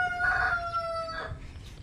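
A rooster crows once among farm chickens, fairly close, with some clucking and background noise around it.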